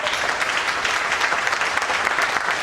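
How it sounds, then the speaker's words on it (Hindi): Loud, dense audience applause fills a hall during a business seminar, many hands clapping together in a continuous, even roar with no talk over it. "जोरदार तालियां, 2-3 मिनट।"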